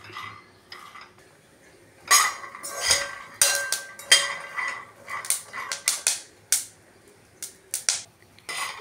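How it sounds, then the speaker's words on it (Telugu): Peanuts roast in a wok-style pan over a stove flame, giving irregular dry rattling and scraping bursts, with clattering stirs against the pan coming in uneven clusters, fairly close and with no voices. "స్టవ్ లో ఫ్లేమ్లో పెట్టుకొని వేపుకోవాలి."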